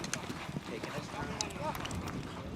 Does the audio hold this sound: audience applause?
no